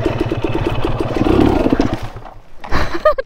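A motorcycle engine revs loudly and close as the rider attempts a wheelie turn, with a sustained throaty roar that fades before a couple of short, sharp bursts of throttle.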